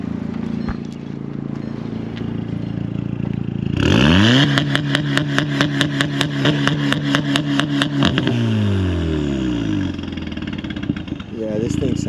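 Molded widebody Volkswagen Golf R with a two-step and twin center-exit exhausts: after a quiet idle, loud revving erupts with a rapid train of sharp two-step pops and crackles, then the engine winds down, with people talking over it.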